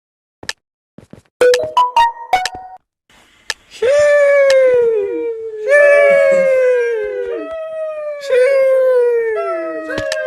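A dog howls in long, drawn-out, wavering cries, three rising and falling howls in a row, loud and close, opened by a few sharp clicks and short tones.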